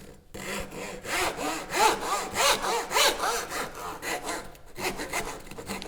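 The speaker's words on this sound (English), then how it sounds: "Right, and then we can cut the faces off the lap joint." A hand saw cuts the faces off a wooden lap joint for a dovetailed book stand in steady, rhythmic back-and-forth strokes. The strokes are close and clear, with a short pause near the end before cutting resumes.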